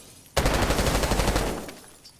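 Rapid automatic fire from the Dark Matter C9 rifle in Black Ops 6 bursts in suddenly and loud, a dense stream of close shots that lasts about a second and a half, then trails off into a fading echo.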